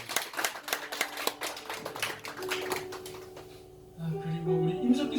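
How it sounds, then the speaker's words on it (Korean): Church congregation clapping during a Korean worship service, a rhythmic run of claps in close succession that thins and gives way to a voice speaking. "박수 한번 주세요."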